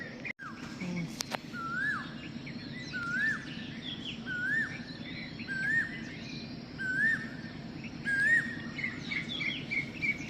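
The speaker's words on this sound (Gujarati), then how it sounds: "ચકલા કલબલાટ કરે છે મિત્રો।" Sparrows chirp and chatter continuously in the early morning at a railway station platform, with repeated bright calls over a low steady hum and a brief clunk near the start.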